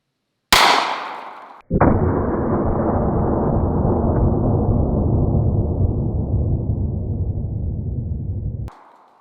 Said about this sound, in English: We're gonna shoot these cinder blocks here and see what kind of barrier penetration we can get between the 500 Special and the 500 Magnum